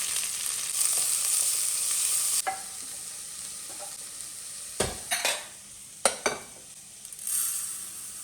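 Onions sauté in hot oil with green chilies and curry leaves, a continuous close sizzle broken by several sharp clinks and scrapes of a utensil against the pan.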